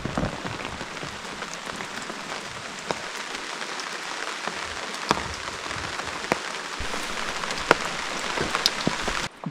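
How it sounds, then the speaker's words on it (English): Rain patters on a tent at night in the Alaskan wilderness, a dense close hiss with scattered sharper drops, steady and unbroken by voices. "I'll get to sleep with the sound of the rain in the tent."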